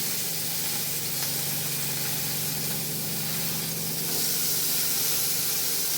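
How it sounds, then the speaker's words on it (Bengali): Long-sliced mangoes frying in a little oil, a steady close sizzling hiss that holds evenly throughout and grows slightly louder toward the end. "আমগুলো একটু ভেজে নেব।"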